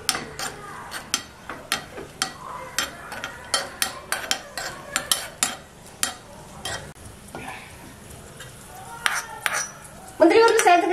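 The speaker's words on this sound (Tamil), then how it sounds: "இப்போ வந்து நம்ம முந்திரி பருப்பு வறுத்து சேர்த்துக்கலாம்" Cashew nuts being stirred and roasted in a pan for carrot halwa, with repeated sharp clinks of a spoon against metal and a light sizzle, close and fairly loud, ending in a burst of louder scraping.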